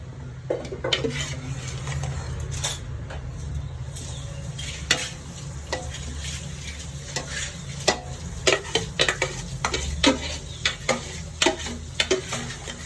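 Leftover rice being stirred into a pot of prawn biryani: steady scraping and clinking of a spoon against the pan, with sharp metallic taps that grow more frequent toward the end, over a low background hum.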